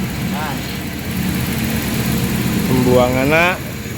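A car engine idles steadily while its radiator is drained after the radiator cracked on a holiday road trip; a low, constant hum runs under close talking in Indonesian.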